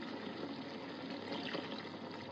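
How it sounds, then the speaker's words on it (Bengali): Water poured into a simmering Bengali fish curry with ridge gourd, giving a steady, close, moderately quiet splashing wash over about two seconds with no talking. "এখন এটাতে আমি একটু পানি দিয়ে আবার ঢেকে রাখবো"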